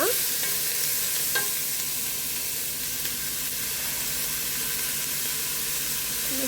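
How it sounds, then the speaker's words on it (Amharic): Food sautés in a heated pot with olive oil, a chicken dish in progress, producing a loud, continuous close-up sizzle with a few faint stirring knocks and no talking. "ድስት ይግሏል፣ እየጋለ ነው። እንደዚህ አድርገን እናቆላላለን።"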